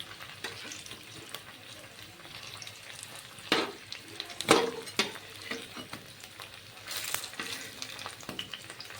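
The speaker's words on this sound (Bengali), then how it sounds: "এবার আমি আরেক পিঠটা এভাবে খুন্তির সাহায্যে তুলে দেব তুলে দিয়ে দুই পিঠে ভালো করে ভেজে নেব" Slices of ash gourd sizzle and fry steadily in a pan, with scraping spatula taps and clatter as pieces are turned over, no talking.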